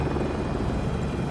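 A helicopter in an online multiplayer video game gives off a steady, loud rotor and engine drone that fills the whole stretch with no break, and no one speaks over it.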